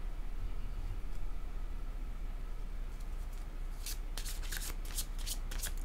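Tarot cards are shuffled for a reading in a quiet room, first as a soft continuous rustle and then as a series of crisp riffling bursts near the end. No one speaks.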